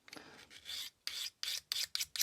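A Magnacut steel funayuki knife is stroked by hand across a King Hyper 1000-grit whetstone, giving seven or so sharp, raspy scraping passes with brief silences between, close and clear without talk.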